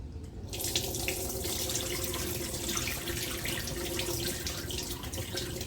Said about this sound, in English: we're going to do right now, is wash this rice